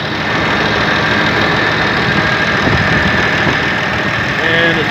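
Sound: Massey-Ferguson 1130 tractor engine running

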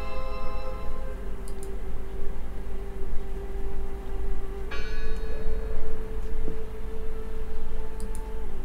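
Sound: bell tolling in the video game Draugen

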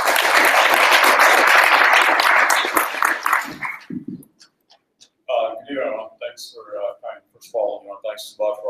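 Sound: audience applause for speaker

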